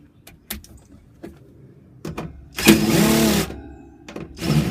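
An impact wrench spins nuts off bolts on a homemade goat hay feeder, with a loud sustained burst of whirring hammering in the middle, framed by short taps and clunks nearby.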